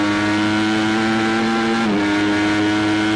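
A Ducati Panigale V4S with its V4 engine runs loud and close, holding a steady, growling note with rich harmonics that dips briefly in pitch midway and then settles back to the same level.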